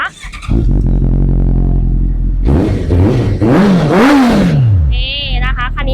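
A 2015 Honda CB650F motorcycle with an aftermarket Akrapovič exhaust cranks and catches, then revs loudly a few times with a rising and falling roar from the loud exhaust, close by.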